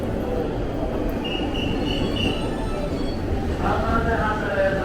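A Saikyo Line train pulls into a packed Shinjuku Station platform, a steady rumbling roar with faint wheel squeal and a brief high tone, amid crowd bustle and voices.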